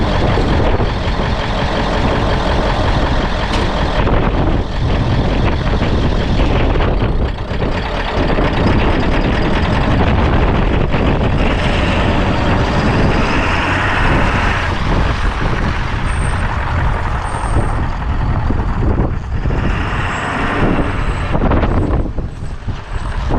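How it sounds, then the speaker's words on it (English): A Ford 7.3 diesel flip truck's engine clatters and rumbles loudly up close for a long stretch while running and driving, with no talk. "As you can see, the truck runs and drives now."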